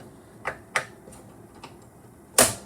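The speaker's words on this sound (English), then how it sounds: "if you have your propane on, you just turn this on and then click" Igniter on an RV propane cooktop in a 2020 Transcend 245 RL travel trailer, clicking sharply three times in close succession, then one louder snap after a short pause, near and alone in a quiet room.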